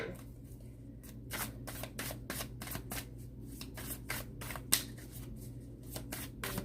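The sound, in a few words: shuffling cards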